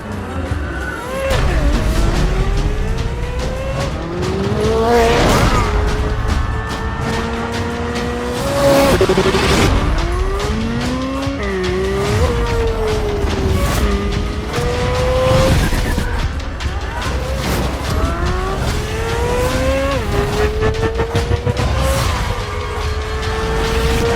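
A Chevrolet C8 Corvette engine revs hard and repeatedly, pitch climbing and dropping through gear changes, loud and close with occasional tire squeal.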